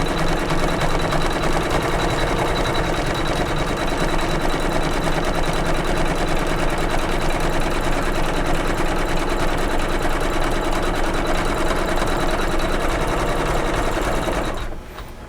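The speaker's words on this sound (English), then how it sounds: "now it's going to tack down my leather, and you can tape it if you choose to. You can see it's doing that little double stitch" An embroidery sewing machine tacks down silver leather on a quilted pillow block with a double stitch, its rapid, steady needle chatter loud and continuous until it stops abruptly near the end.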